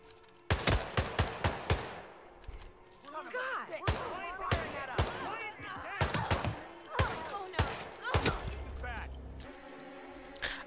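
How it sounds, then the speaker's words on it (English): Cannon and gunfire blasts in the Hitman video game come as a rapid burst of sharp, loud bangs, followed by scattered shots over a busy backdrop with faint voices. "I just wanted to fire a cannon."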